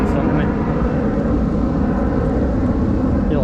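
Steady broadband roar of an aeroplane passing overhead above a river while fishing, continuous and fairly loud throughout with no clear rise or fall, a low rumbling wash filling the scene.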